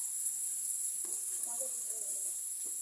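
Chopped onion dropped into a hot pan with garlic, sizzling softly and steadily with a few faint crackles and light scrapes, fairly quiet and close, no talk.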